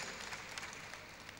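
Applause from the audience at a university convocation lecture, greeting a former librarian; a brief, faint, steady wash of clapping without distinct individual claps.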